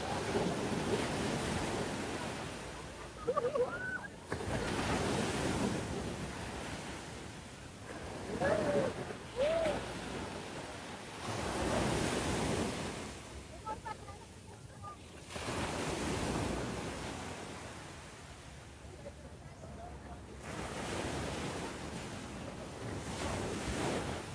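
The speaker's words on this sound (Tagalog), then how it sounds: "Sige itong part na to, malalaking alon." Big ocean waves breaking on White Beach, Boracay Island, a loud, steady roar of surf that swells and recedes in long surges, with wind buffeting the microphone and faint voices now and then.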